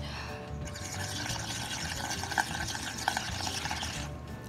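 Air blown through a straw into a cup of paint water gurgles and bubbles steadily, a close, continuous watery burble with a couple of louder pops near the middle.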